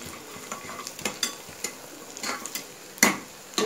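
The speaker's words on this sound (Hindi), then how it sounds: "सूखी मिर्च आप यहाँ पर डाल दीजिए 2, मैं तो 3 ही डालूंगी" Dried red chilies frying in a pan of oil for biryani, a soft steady sizzle broken by scraping stirs and a few sharper knocks of the spoon against the pan.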